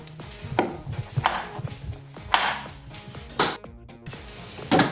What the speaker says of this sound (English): I'm chopping some chocolate for the cream.